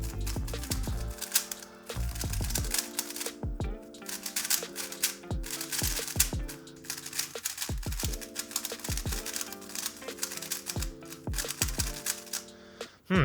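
A speedcube, scratchy and sandy in feel, is turned rapidly by hand, making dense, close clicking and rasping bursts in quick rhythmic runs with brief pauses between them.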